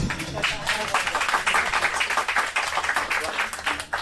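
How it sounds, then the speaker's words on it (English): Dense, steady clapping from a crowd aboard a yacht in Dubai, lasting several seconds with an even, continuous texture. "Now I get a round of applause."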